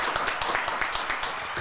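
A small audience claps for guests on a live variety show, a brief scattered round of applause heard at a moderate distance.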